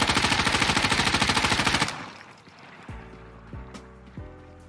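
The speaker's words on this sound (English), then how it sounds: "So here we go, MP5 recoil test with the foregrip." Rapid automatic fire from an MP5 fitted with a foregrip in Insurgency: Sandstorm, a loud, fast, steady burst lasting about two seconds, then fading into a quieter tail with a few low thumps and clicks.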